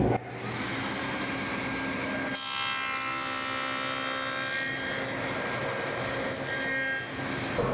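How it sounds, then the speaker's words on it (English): A table saw cuts a box joint notch in a wood workpiece on a finger joint jig, with a steady, loud motor whine and blade noise that deepens as the cut begins and runs continuously. "So just slide your first workpiece up against the key and make the first cut."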